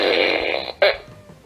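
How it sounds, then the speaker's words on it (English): A fart machine sound effect blurts out in two bursts, a longer raspy one followed by a short, sharp second puff, then quiet. "I got the fart machine instead of the time machine."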